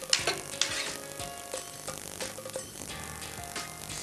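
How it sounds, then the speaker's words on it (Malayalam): Vegetables cooking with turmeric, salt and a little water in a pot, with soft scraping and clinking stir strokes over a low simmering sizzle, irregular and fairly quiet. "നല്ലപോലെ ഇളക്കി വേവാൻ വയ്ക്കുക."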